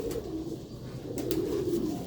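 Pigeons coo softly in a steady low murmur, with a few faint higher chirps mixed in. The birds are Sialkoti pigeons kept by a fancier, and no one talks over them.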